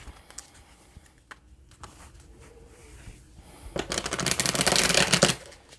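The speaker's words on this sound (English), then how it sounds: "Spirit says to give one more good shuffle" Tarot cards get a vigorous riffle shuffle, a dense fluttering burst lasting about two seconds after a few quiet taps and handling sounds, close and loud with no talking.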